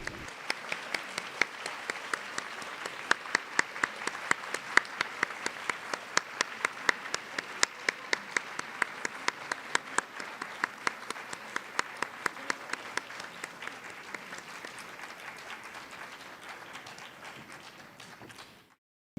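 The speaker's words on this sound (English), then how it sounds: "Please welcome our Prime Minister with a warm round of applause" Warm applause welcomes the Prime Minister of Japan, Shinzo Abe, at a public forum, a steady round of clapping with a few sharp close claps that fades out before ending.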